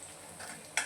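Chili powder being stirred into masala frying in oil, giving a soft steady sizzle with a short scrape of the spoon near the end, close and quiet, lasting under a second.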